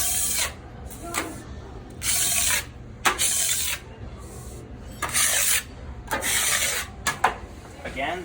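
A polishing pad rubbed back and forth over an oiled surface makes a rough, rasping swish in repeated strokes, about eight bursts with short pauses between them, close and moderately loud.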